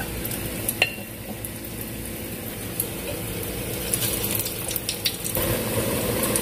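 Malanga fritters (akra) fry in hot oil, a dense continuous sizzle with small pops and occasional clicks of a table knife against the pot, close and steady, with no talking.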